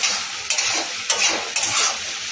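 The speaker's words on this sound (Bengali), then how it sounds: "আমি এটা নেড়ে চেড়ে নেড়ে চেড়ে একদম শুকনো শুকনো করবো" A vegetable and prawn curry with potatoes and cooked-down taro is stirred in a pan over medium heat, a steady hiss of frying with three sharper scraping strokes spaced about half a second apart, close and fairly loud, no talking.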